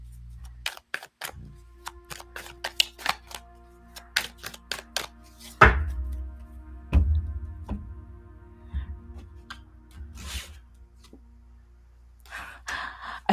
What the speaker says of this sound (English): Let me give this a nice shuffle.